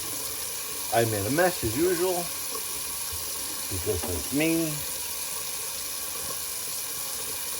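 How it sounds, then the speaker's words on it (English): Cold tap water runs steadily into a sink for a quick rinse during a wet shave, a constant hiss underneath someone speaking in short bursts. "let me just do a little quick cold water rinse"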